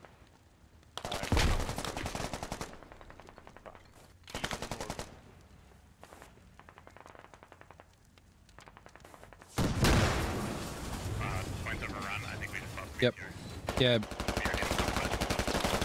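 Bursts of video game gunfire in SquadOps, automatic weapon volleys and single shots crackling across a battlefield, loud distant and near exchanges, with brief voice chat over it.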